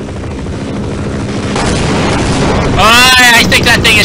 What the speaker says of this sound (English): I think that thing is shooting missiles or rockets or something.